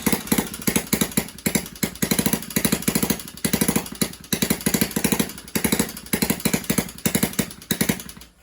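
Small Chinese SSR70 pit bike engine running on its first start, a loud, rough, rapid popping idle with uneven bursts and dips throughout, close to the microphone.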